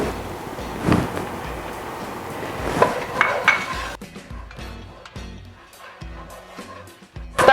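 Flour being stirred into melted butter in a skillet for a roux, with scraping and clinking of a utensil against the pan over a faint sizzle, irregular strokes close by.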